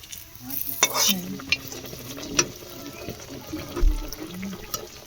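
Batter being stirred and mixed by hand in a bowl, with soft, irregular scraping and sloshing strokes and a few sharper knocks, all fairly quiet against a faint steady background.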